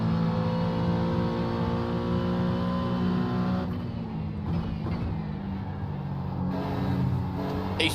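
GT3 race car engines in iRacing at Watkins Glen drone loudly and steadily, a dense layered roar of several cars with shifting pitch as they accelerate and pass, continuous throughout without talk.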